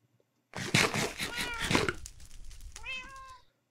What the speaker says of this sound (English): Cats do not shut up.